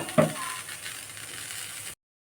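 Gas stove knob turned off with a single short mechanical click near the start, followed by a faint steady hiss that cuts to silence.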